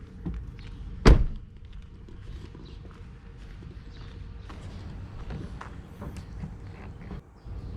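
A single sharp, loud clunk as the hood of a Mercedes-AMG A45 with a 2.0-litre turbo engine is released and opened, followed by quiet, low background rumble and faint handling noises.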